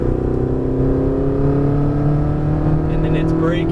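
A Ferrari 488 GTB on the Las Vegas Motor Speedway track holds a steady, loud engine drone as it gently feels out the power, with someone talking over it throughout.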